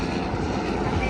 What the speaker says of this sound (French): Vous voyez ça? C'est un hélicoptère.